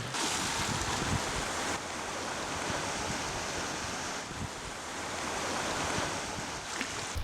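Waves breaking along a seaside village shore in Uljin, Gyeongsang province, a continuous hissing wash with slight swells and dips, steady and fairly close throughout.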